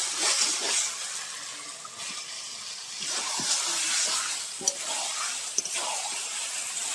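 Fried mutton is tipped into a pan of cooked spice masala and stirred, giving a steady close hiss and sizzle broken by a few sharp scrapes and knocks of the spoon.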